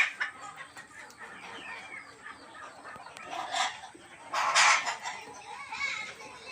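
Peruvidai country hens and young chicks cluck and cheep on a farm, with soft repeated calls throughout and a louder burst of clucking partway through.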